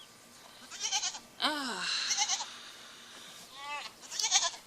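Goats bleat in quavering, wavering cries across a small farm pen, several calls overlapping and rising and falling near the listener, with a brief human exclamation among them.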